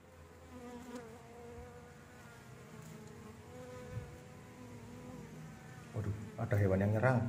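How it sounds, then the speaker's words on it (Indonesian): Wasps buzz and swarm outdoors near an old hermitage site, a steady droning hum that grows louder and busier at the end, with people talking over it. "Kayak tawon bro, kayak tawon nyerang."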